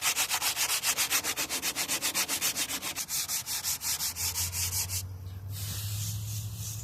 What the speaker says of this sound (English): So I'm going to sand this down